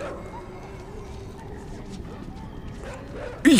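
A dog barks in the side-scrolling video game Inside, a sudden loud burst near the end over a steady low game ambience.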